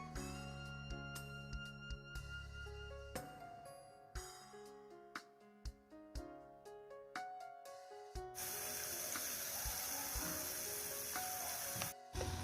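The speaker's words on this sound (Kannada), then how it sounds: "ಈ ಥರ ಗೋಲ್ಡನ್ ಬ್ರೌನ್ ಬರುವವರೆಗೂ ನಾವು ಎಣ್ಣೆಯಲ್ಲಿ ಫ್ರೈ ಮಾಡ್ಕೊಳ್ಬೇಕು" Urad dal vadas sizzle in hot oil, a dense steady crackling hiss that swells into a loud, bright sputter partway through, with scattered sharp pops and clicks throughout; no voices.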